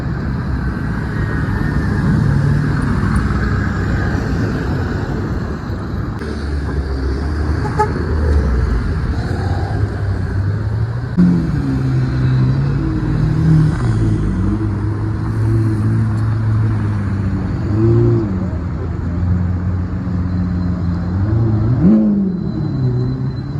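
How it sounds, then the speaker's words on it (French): An MG GT drives along a Paris street among other traffic, its engine sound rising and falling close by over a steady roar of road noise, with a brief horn toot. "Regardez, on a une MG GT qui arrive là."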